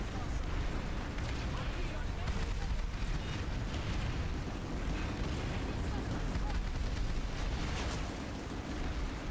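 Rapid, dense gunfire from a video game shooting gallery rolls on as a continuous, loud wash of overlapping shots and blasts for the whole stretch, with no pauses.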